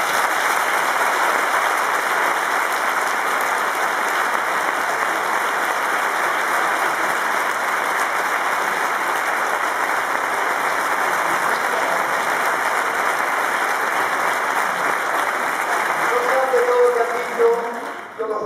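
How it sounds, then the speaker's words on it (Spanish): An audience at a book presentation event applauds in a dense, steady wash of clapping that holds for a long stretch without a break, then starts thinning and fading out near the end. "Damos un aplauso a Carmen."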